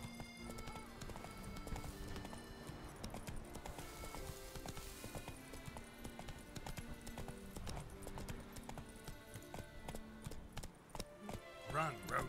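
Roach the horse galloping in a video game, a steady rhythmic run of hoofbeats with occasional whinnies, heard under game music and bits of game voices.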